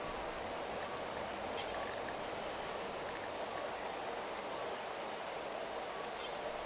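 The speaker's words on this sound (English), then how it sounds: "Sleeping outside in the rain." Steady rain in the RimWorld game falls as a soft, even hiss with faint scattered droplet ticks, continuous and fairly quiet throughout.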